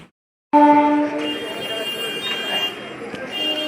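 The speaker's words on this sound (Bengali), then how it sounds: "এই যে ট্রেন থেকে নামলাম," A train at a station after passengers step off, with a loud sustained horn-like tone starting abruptly, then steady rumbling carriage noise and clatter continuing in the background.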